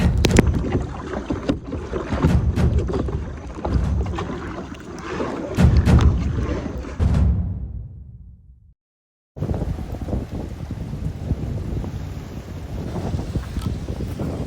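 Wind roars across the microphone while paddle strokes from a small boat at sea off Koh Chang, Thailand, splash and slap the water, cutting out briefly before the blustery sound resumes.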